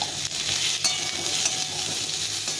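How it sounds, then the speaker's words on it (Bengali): Elephant foot yam and potato pieces fry with salt and turmeric in a home kitchen pan, a dense close sizzle with quick stirring scrapes in a short burst and no speech. "এই ওল আলুটাকে ভালো করে ভেজে নেব"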